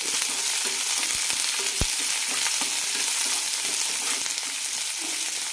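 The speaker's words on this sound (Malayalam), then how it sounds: "ഇനി ഇതിലേക്ക് സവാള ഇടാം കുറച്ച് കറിവേപ്പിലയും രണ്ട് വെളുത്തുള്ളി നന്നായി വഴറ്റാം" Onion, curry leaves and two garlic cloves sauté in a pan for a capsicum chutney, giving a loud, steady, close sizzle broken by a few stirring clicks, with no voices.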